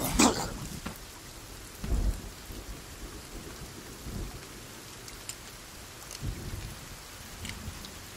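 Rain falls steadily in the survival game Sons of the Forest, with low thunder rumbles at intervals and a sharp crack at the start, heard fairly close and without speech.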